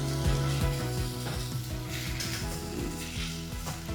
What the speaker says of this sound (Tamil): மீடியம் சைஸில் 2 தக்காளி போட்டோம்